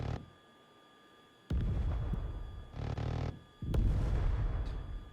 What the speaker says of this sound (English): We can save our missiles here and just sort of take them out with our guns.